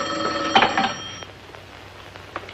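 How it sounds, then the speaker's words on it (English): A telephone rings in a vintage Abbott and Costello comedy show, one loud bell burst followed by a softer fading ring, with no talking. "I think I better answer that phone."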